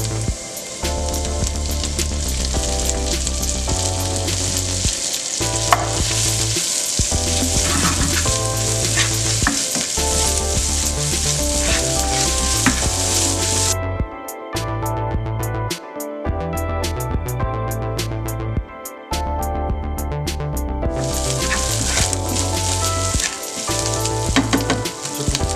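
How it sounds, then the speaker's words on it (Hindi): Bacon sizzles and fries steadily in a pan, with loud, close crackling and hissing throughout, punctuated by stirring and a few brief pauses in the sizzle. "इसके बाद हम लोग ऐड करेंगे बेकन।"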